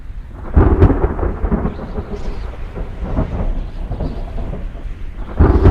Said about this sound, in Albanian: Ajo është një vetëtim me bubullim.